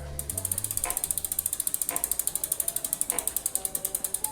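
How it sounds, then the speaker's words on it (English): Marin Bobcat Trail 4 mountain bike with the rear tire rubbing against the front derailleur, giving a fast, steady ticking and ratcheting rasp that repeats evenly for several seconds, with a few faint higher scrapes mixed in. "the rear tire is rubbing against the front derailleur"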